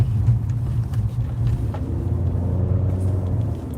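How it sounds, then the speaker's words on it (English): New York City street traffic rolls past as a continuous low engine rumble, close and fairly loud, with a vehicle swelling slightly in the middle and no talk over it. "And it's New York traffic."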